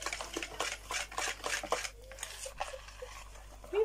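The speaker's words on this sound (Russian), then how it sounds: "Все жидкие ингредиенты замешиваем." Liquid ingredients for kulich dough are mixed in a bowl with quick, rhythmic stirring strokes and scrapes near the listener, which then thin out into softer, scattered clinks toward the end.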